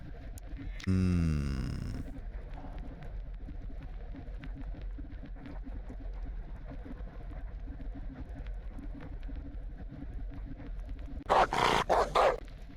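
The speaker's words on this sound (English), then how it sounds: "Who let a dog on this ship?" Dog barking aboard a ship in a video game, a loud harmonic bark near the start over a steady low hum, followed by a brighter burst of game sound near the end.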